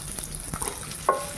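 Onion frying in a pan on low heat gives a soft, steady sizzle with faint stirring clicks and a short scrape near the end.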